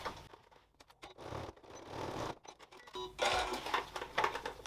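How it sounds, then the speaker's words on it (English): A sewing machine runs a double line of stitching on a fabric pouch in short bursts of rapid mechanical clatter that start and stop, with brief pauses between runs. "I've given that a double line of stitching again."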